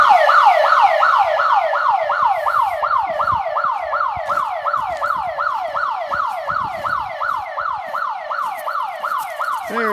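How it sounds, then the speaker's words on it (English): An electronic alarm siren wails in a fast, repeating rising sweep, loud and close, cycling steadily for the whole stretch. "you can set the siren for however long you want it to go"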